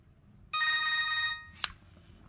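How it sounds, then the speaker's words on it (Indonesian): A telephone rings once in a film scene, a steady electronic trill lasting under a second, followed by a sharp click as if the receiver is picked up, over a quiet background. "Kemudian Cullen pun menelepon nomor terakhir yang berkomunikasi dengan handphone Kapten Quinn."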